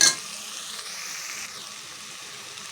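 Broad beans and potato curry sizzle in plenty of oil, a soft continuous hiss and crackle that stays even throughout, with a brief louder burst at the start.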